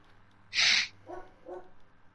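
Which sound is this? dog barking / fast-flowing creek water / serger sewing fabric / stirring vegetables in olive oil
dog barking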